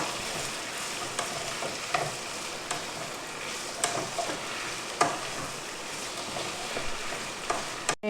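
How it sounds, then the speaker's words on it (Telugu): Tender okra fries in a pan with a soft, steady sizzle. A spatula stirs it with repeated light scrapes and taps at irregular intervals. "వీటిని కూడా కొంచెం అలా వేపేద్దాము."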